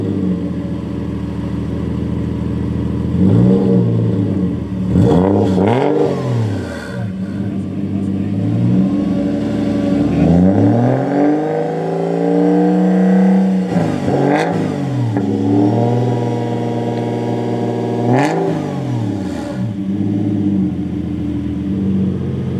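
A car engine revs hard several times through a performance exhaust with a deep, throaty roar, rising and falling between bursts, loud and close.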